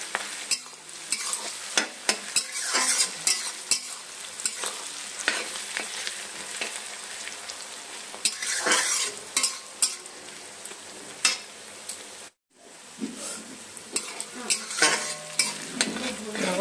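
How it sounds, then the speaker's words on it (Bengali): Onions for mutton kosha fry in a pan with a dense, crackling sizzle, broken by repeated scraping and stirring strokes and brief clinks of a spoon, heard up close with no talking. "পেঁয়াজটা ভালো করে ভাজা ভাজা হয়ে গেছে"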